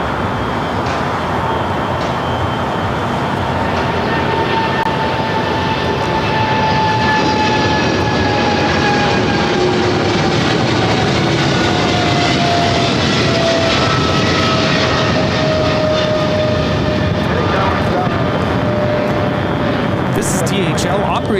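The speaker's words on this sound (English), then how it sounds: "DHL operated by Polar Air Cargo 962 taking off to Cincinnati on the 777 freighter" A Polar Air Cargo Boeing 777 freighter for DHL takes off from LAX, its heavy jet roar loud and sustained with a slowly falling engine whine, while faint radio voices sit underneath.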